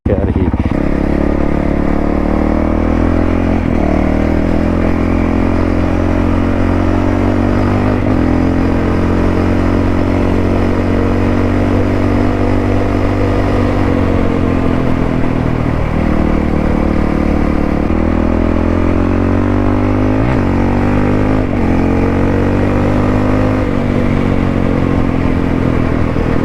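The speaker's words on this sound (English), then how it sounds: "I don't think I could ride this bike standing up on the throttle without steg pegs" A Honda CRF450L dirt bike rides off-road with a loud, steady engine drone that rises and falls slightly with the throttle throughout. Someone talks over the engine.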